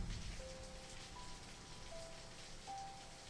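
Rain falling in the dark, a faint, even hiss of drops that keeps going without a break, with thin sustained tones drifting over it and no speech.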